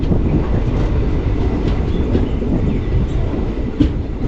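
A train rumbles steadily at Savarda railway station, the Ahmedabad–Mangaluru special, with faint rhythmic clicking of wheels on rails, a continuous low mechanical drone.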